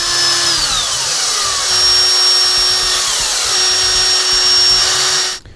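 A power tool whines loudly and steadily, pitch dipping and recovering as it tightens parts together during a G-Made R1 rock buggy build, then cuts off abruptly at the end.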